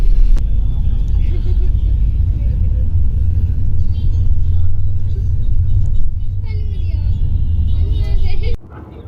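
A Tranzking BS6 sleeper bus rumbles steadily while driving, with a deep, loud engine and road drone throughout, heard from inside the cabin as a person talks over it before the sound drops away near the end.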